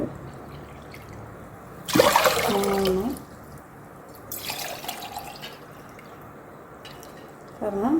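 Water poured from a pot into a pressure cooker while cooking pearl millet rice, heard as a few separate splashing pours, each lasting about a second, close by with quiet pauses between them.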